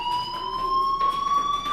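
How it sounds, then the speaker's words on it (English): A school fire alarm rings inside the game Life is Strange Remastered, a loud continuous electronic tone that holds steady and slowly rises in pitch, heard alone. "Hey, do you hear that fire alarm? That means you should be outside."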